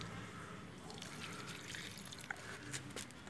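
Water trickles and drips softly into the soil of an aloe vera plant being watered, a faint, continuous pour with a few small splashes.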